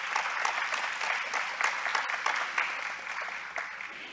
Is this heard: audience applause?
yes